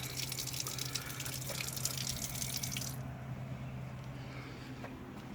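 Water runs in a steady splashing stream from a spigot on a 55-gallon rain barrel for a few seconds, then stops, leaving a quiet hum and faint drips.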